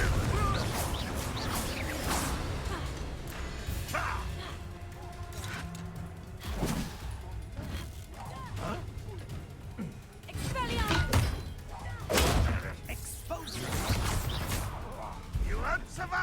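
Confringo blasting spell cast in Hogwarts Legacy, bursts of impact and crash sounds amid battle noise, heard under frequent talk and shouting.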